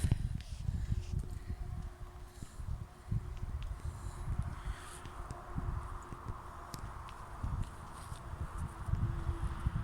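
A horse walks along a nature trail with a rider, its soft, irregular hoof thuds mixing with rustling and wind noise at close range.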